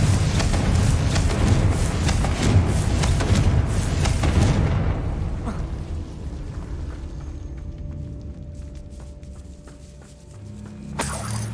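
A Confringo fire-blast spell from Hogwarts Legacy erupts in a loud explosive roar with shattering crackle that fades over several seconds into quieter game ambience, then a sharp new burst near the end.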